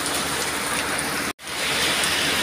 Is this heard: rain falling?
yes